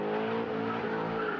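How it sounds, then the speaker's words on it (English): Car engines hold a loud, steady droning hum with a strong tonal whine, running continuously without pause over the short stretch. "Rev up your engines!"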